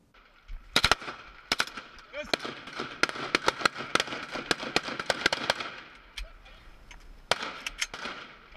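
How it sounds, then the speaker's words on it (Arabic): Gunfire rings out inside a tunnel: sharp single shots and short bursts crack irregularly, loud and echoing, with a voice talking underneath between shots. "يطلقان الرصاص داخل النفق"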